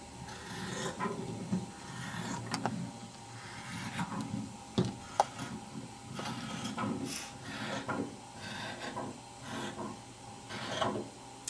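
Fabric being cut off the bottom of a pant leg to shorten the hem by an inch, heard as a string of soft, close snipping and rasping strokes in irregular rhythm, with no talking.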